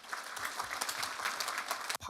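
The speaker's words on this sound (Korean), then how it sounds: "우리 감사의 박수를 해주시겠습니다" A church congregation applauds the pastor at a Friday prayer service, with quiet, distant, sustained clapping from a large gathering.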